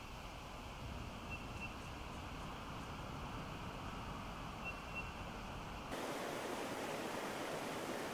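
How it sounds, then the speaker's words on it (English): Oak Creek in Arizona's Oak Creek Canyon flowing steadily, a continuous rushing wash of sound that shifts abruptly to a brighter, closer splash near the end. "Oak Creek is one of the few perennial streams within this high Arizona desert."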